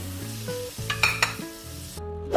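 Spinach with ginger and garlic sautéing in a pan for palak paneer gives soft sizzling with stirring scrapes and a few light clinks against the metal, close and moderately quiet, with no talking.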